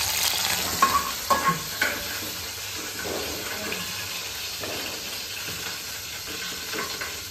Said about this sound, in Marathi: उडते का फोडणी उडते कधी पण